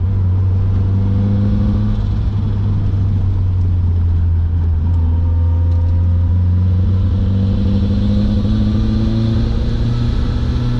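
A Nissan 240SX with a CA18DET engine pulling hard, its loud, close drone climbing steadily in pitch as the revs build over the full stretch, with no break and no voices.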